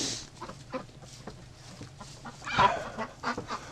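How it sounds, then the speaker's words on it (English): Ducks settle down for the night in a barn, giving soft, scattered quacks and low clucking calls close by, with someone speaking briefly over them. "the ducks are bedding down here"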